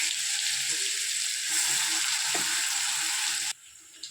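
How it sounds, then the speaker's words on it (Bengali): Grated, ground radish stir-frying in hot oil in a wok for a kachori filling, a close steady sizzle with faint scraping of a spatula, dropping off abruptly near the end. "তো মূলোটা আমি একটু তেলে নাড়াচাড়া করে নিয়েছি"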